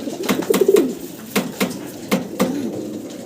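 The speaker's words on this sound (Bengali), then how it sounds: "আবারও আমেরিকান হেলমেট কবুতর দেখাচ্ছি" American Helmet fancy pigeons, a yellow and red pair, coo in soft throaty bursts that repeat every second or so, close by, with a few sharp clicks mixed in.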